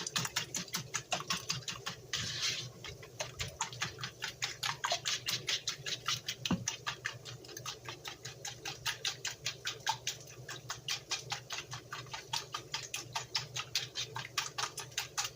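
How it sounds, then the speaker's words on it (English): Eggs whisked together in a bowl, a fast, steady clicking patter of the whisk against the sides, close and continuous for the whole stretch. "take your eggs, whisk them up together so that they're all whisked up together"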